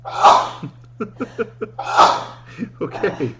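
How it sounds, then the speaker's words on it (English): Two forceful sneezes burst out close to the microphone about two seconds apart, each followed by short breathy gasps and chuckling noises in a talk-show setting, with a low steady hum underneath. "that sneeze attack is my fault."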